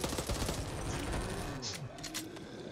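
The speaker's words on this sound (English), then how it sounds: "Let's keep this gun firing." Dense, rapid gunfire from the zombie shooter game Back 4 Blood, a sustained rattling barrage with scattered sharper reports, fairly faint in the mix.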